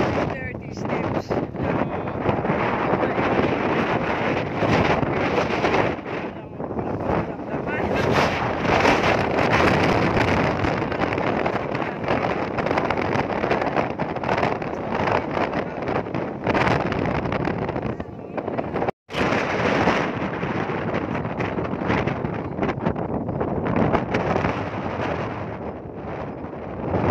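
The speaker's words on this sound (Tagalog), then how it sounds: "Talaga, lakas ng hangin" Strong gusting wind buffets a microphone high on a mountain at the 330-step point of a trail, a loud continuous roar that swells and eases for the whole stretch, with a brief dropout near the end.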